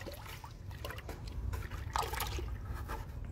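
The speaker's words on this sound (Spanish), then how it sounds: "Ya que está, se lo voy a revolver." Water mixed with common powdered soap is stirred by hand in a 20-liter can, giving soft close sloshing and trickling swirls that rise and fall over a few seconds.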